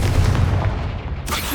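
Confringo blasting spell explosion in Hogwarts Legacy, a deep booming blast with rumbling low-end that decays over a second and a half, followed by a brief burst of debris.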